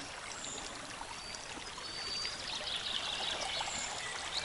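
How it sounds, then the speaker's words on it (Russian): River water flowing in spring flood toward the bank, a steady broadband rush with a faint trickling edge, continuous and moderately close with no talk. "Здесь вот вода начинает заходить, вот напрямик будет течь."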